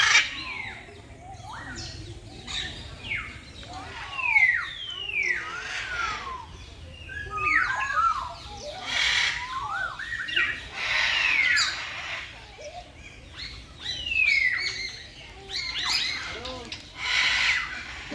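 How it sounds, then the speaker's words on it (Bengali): Macaws and assorted other birds in an aviary at a riverside picnic spot call continuously, with squawks, chirps and whistled tweets overlapping at close to moderate range over a low background hum. "এরপর দেখুন ম্যাকাও সহ বিভিন্ন ধরনের পাখি এবং উপভোগ করুন তাদের বিভিন্ন প্রকারের ডাক।"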